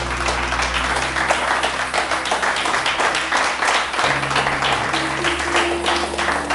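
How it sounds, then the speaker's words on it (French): A church congregation claps and applauds throughout, a dense, steady wash of hand claps from many people filling the room, with a faint low tone underneath. "Les saints acclament le roi des rois, le Saint des seigneurs."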